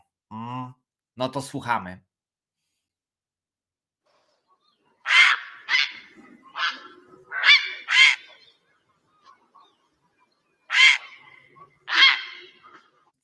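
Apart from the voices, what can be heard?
duck call, played in a guessing game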